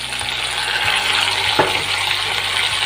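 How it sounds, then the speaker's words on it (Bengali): Potato pieces frying in hot oil in a pan, ginger going in as the heat is turned down, make a continuous close sizzle with a few soft stirring scrapes and knocks throughout, no voices. "মিলিয়ে দিয়ে ভালো করে ভেজে নেবো আলুগুলো ভাজা হয়ে এসছে"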